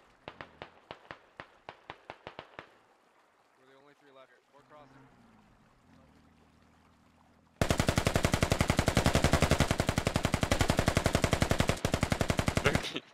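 AK rifle fire in a video game: a quick run of close, sharp single shots, then after a lull a long, loud, dense automatic burst that runs continuously to the end.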